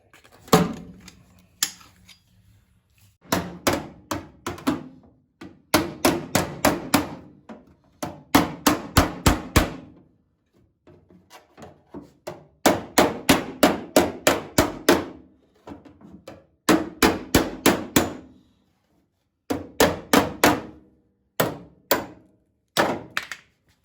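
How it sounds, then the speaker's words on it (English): A hammer and dolly shape the metal quarter panel of a 1977 Chevy Camaro being restored, producing sharp ringing metallic taps in rapid bursts of several strikes each, separated by short pauses, close and loud with no talking. "he's just kind of massaging the metal out using a hammer and a dolly"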